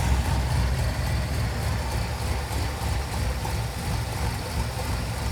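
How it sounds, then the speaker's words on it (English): An old Ford Econoline van's engine, long abandoned and running on bad gas, idles roughly after revving, a loud steady rumble with a faint chattering texture and no voices. "Whenever you got like noisy valve chatter, just rev it up."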